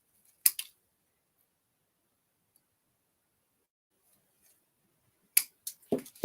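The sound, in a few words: scissors snipping a Christmas ornament piece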